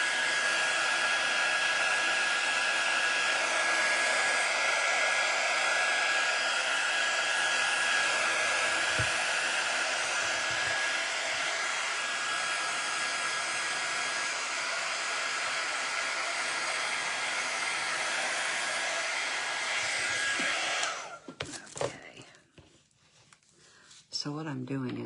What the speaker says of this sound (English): So what I'm doing is just taking my sander and I'm trying.